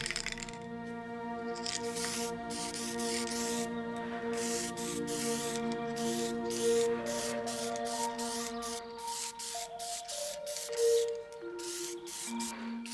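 Spray can applying a coat of filler to a 3D printed hanging plant pot, repeated short hissing bursts in quick succession over a steady background hum with faint shifting tones.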